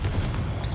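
Confringo blasting spell from Hogwarts Legacy going off as a short, low, muffled boom that fills the whole fraction of a second.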